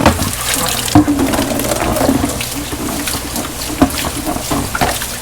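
Steady rushing of tap water pouring into a guppy tank, a continuous splashing hiss with a few brief clunks over it.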